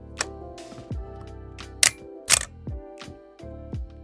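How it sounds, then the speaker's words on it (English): A Praktica MTL3 SLR film camera's metal shutter fired repeatedly, several crisp mechanical snaps and clacks with winding clicks between, close up and isolated against a quiet background. "the metal shutter inside is very satisfying and makes a really nice sound"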